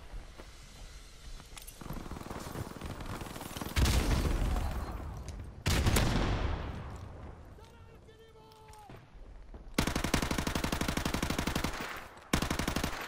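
Gunfire in Call of Duty Modern Warfare comes as bursts of rapid automatic shots alongside heavy explosive booms, with quieter gaps in between and someone talking over parts of the action.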